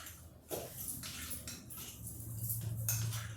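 A spoon scrapes and clinks against a dish while stirring dry ranch mix into gluten-free chicken biscuit casserole ingredients, a few close, irregular strokes with soft rustling in between.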